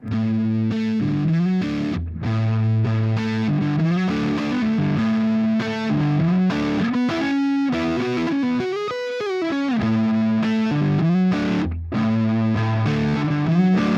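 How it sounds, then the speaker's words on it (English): Loud, distorted electric guitar through a Marshall amplifier plays continuous chords and riffs with a thick, saturated amp tone, brief gaps between phrases. "let's find out what mid-range does and doesn't do to a classic Marshall tone"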